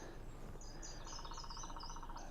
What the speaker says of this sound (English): there's a woodpecker in the woods behind me